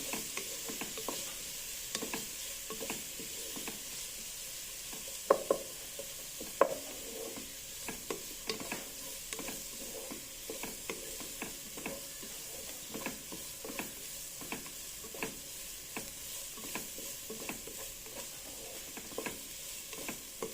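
Fried rice, seasoned with black pepper powder, is sautéed and stirred in a hot pan with steady soft sizzling and irregular scraping and tapping of a spatula, close by and moderately quiet, with no voices.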